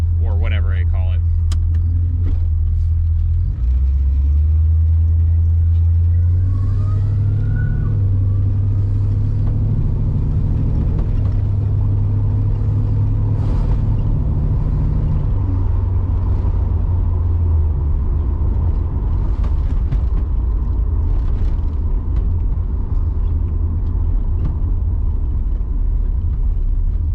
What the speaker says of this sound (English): that whining noise you're gonna hear when I take off is the trans